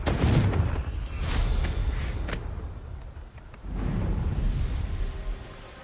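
Fiery Confringo spell blasts in Hogwarts Legacy, a loud burst of crackling explosions up front, a brief lull, then a second rumbling, roaring blast with no talking.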